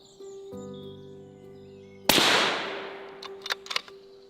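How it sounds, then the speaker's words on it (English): A single sharp rifle shot fired from a high seat while culling a young muntjac buck during UK deer stalking, a loud crack with a decaying outdoor echo, preceded by a faint steady hum and followed by a few small knocks. "A clean shot and a nice young buck for the cull sheet."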